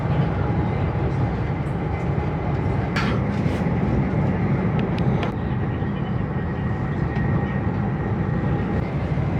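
Inside a high-speed train running at about 300 km/h in Spain near Calatayud, a steady, loud rolling roar and rumble fills the cabin continuously, with a few faint clicks and knocks over the top.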